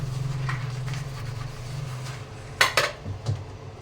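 A cooking pot being washed with soap, with metal scraping and clanking against utensils, a low steady hum beneath, and a couple of louder clatters near the end.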